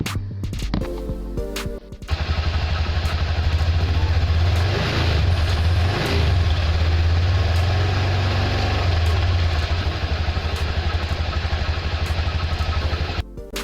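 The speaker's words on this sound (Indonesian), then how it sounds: "suara mesin terdengar kasar ya" A motorcycle engine idles loud and close with an uneven, rough, sputtering rhythm from old oil needing a change, starting after a brief clatter and running steadily before cutting off.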